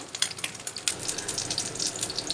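Potato chops coated in egg batter deep-frying in hot oil, giving a steady close bubbling sizzle and hiss with small crackling pops throughout.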